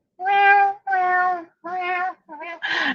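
A person imitates a pet cat meowing, giving five drawn-out, close, clear meows in a row, the last one short and breathy.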